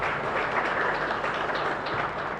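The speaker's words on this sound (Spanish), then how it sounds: "Fuerte aplauso para el Señor" A church congregation applauds during a Mass for San Blas at a chapel in San Antonio, a steady dense wash of clapping filling the space throughout without any voices over it.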